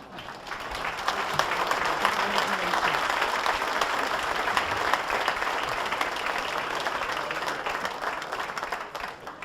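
Loud, sustained audience applause fills the hall at a Northeast dirt modified racing hall of fame induction ceremony, with many hands clapping steadily and a voice faintly audible beneath it.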